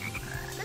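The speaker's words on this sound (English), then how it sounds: "the frog is doing rain dance." A frog in a Sonic video game croaks in a steady, close stream of low, throaty pulses over a busy game soundtrack.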